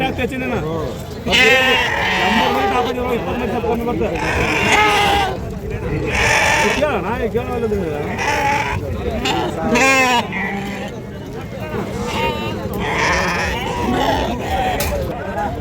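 Sheep and lambs bleating repeatedly at the Amingad sheep and goat market in Karnataka, close and loud, overlapping calls from several animals under busy crowd chatter and voices throughout.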